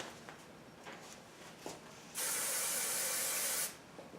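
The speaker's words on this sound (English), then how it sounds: "I'm going to use a hairspray with this one." A hairspray can lets out one continuous loud hiss of about a second and a half while it is sprayed onto hair for a messy ponytail, with soft handling noises before it.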